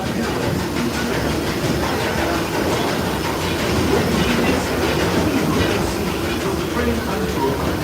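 Disneyland Railroad train rolling along its rails near New Orleans Square Station, a steady rumbling clatter of wheels and cars throughout with constant track noise, moderately loud and close, and faint background voices.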